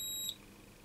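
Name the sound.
continuity tester beep on a radio circuit board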